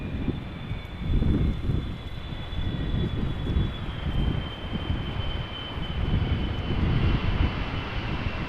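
A KLM Boeing 777-300ER arriving from Panama City at Amsterdam Schiphol gives a moderately distant, steady engine drone with a thin high whine and gusty low rumble, no voices.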